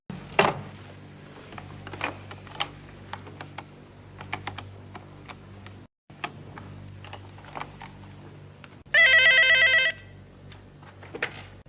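Keyboard typing clicks away in a quiet room, then a telephone rings once in a loud, trilling burst before the tapping resumes.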